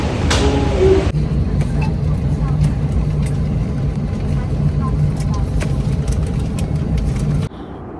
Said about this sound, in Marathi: आता आमचं प्लेन टेक ऑफ झालेलं आहे